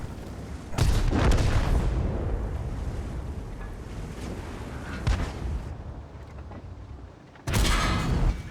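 Heavy cannon blasts from tanks in World of Tanks, including a 53TP Polish heavy tank in a Paris battle map, with a loud booming shot near the start and another sharp blast near the end over rumbling battle ambience.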